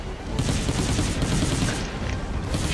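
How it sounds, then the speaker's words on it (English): A beam rifle fires in a Mobile Suit Gundam video game, heard as a dense burst of loud, rapid booming shots that carries through the whole moment with no talking. "Man, only 12 shots in that beam rifle."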